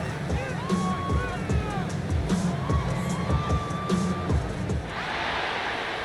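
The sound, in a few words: crowd cheering in Madden NFL 26 video game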